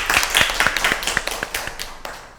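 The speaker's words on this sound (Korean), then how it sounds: "박수 한번." A small group claps at a council member talk event, a sparse, uneven run of handclaps that starts brisk and thins out over a couple of seconds.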